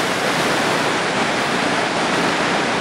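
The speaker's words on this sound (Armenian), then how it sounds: "Այս էլ հատման գետն է, որտեղ փրփրած այդ թափոնաջրերը միանում են գետին" Foaming mine tailings wastewater pours into a river, a steady, loud broadband rush of churning water that carries on unbroken from start to finish, with no voices over it.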